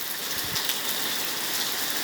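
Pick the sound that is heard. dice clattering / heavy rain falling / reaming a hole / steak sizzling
heavy rain falling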